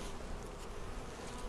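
Honey bees from an opened hive buzz in a dense, continuous drone during a pre-spring inspection, loud and close, with no voices.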